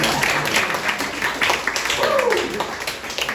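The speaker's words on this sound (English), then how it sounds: "Give him a round of applause for everybody." Audience applause at a comedy roast battle, a crowd clapping steadily through the whole moment with a host's voice and some cheering mixed in over the top.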